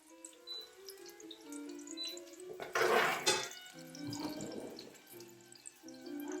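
Tap water runs into a cooking pot meant for boiling fish, a rushing burst of a second or two standing out over a quiet kitchen with faint clinks.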